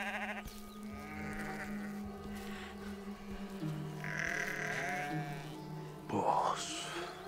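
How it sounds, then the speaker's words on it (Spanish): A goat bleats several times, wavering, nasal cries that come close by, with a louder call near the end over a steady background hum. "Esa cabra."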